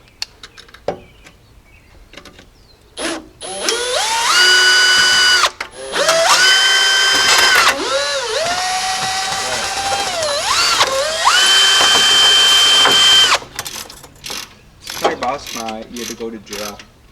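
A cordless power drill backing Phillips screws out of a Jeep Cherokee XJ headlight retainer ring, several loud whining runs that rise and fall in pitch, separated by ratcheting clicks and handling knocks, close up.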